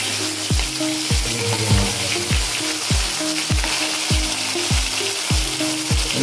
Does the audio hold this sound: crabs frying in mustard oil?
yes